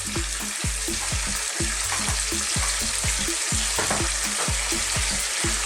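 Lean lamb sizzles hard in a hot pan seasoned with black pepper and salt, the steady frying hiss broken by regular stirring scrapes and clunks of a utensil against the pan, close and with no talking.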